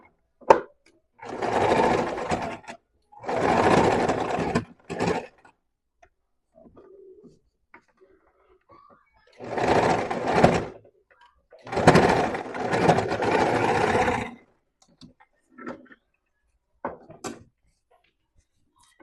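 Sewing machine running a seam with a backstitch at a stitch length of 2 and tension of 3, in four loud bursts of whirring stitching separated by quiet pauses, with faint clicks between.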